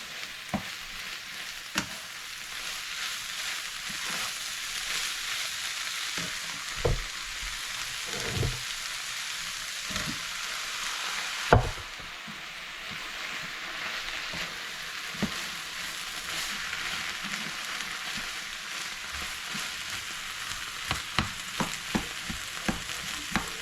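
Saltfish and potatoes frying in a skillet give a constant, even sizzle with scattered soft pops and occasional stirring knocks, close and steady throughout.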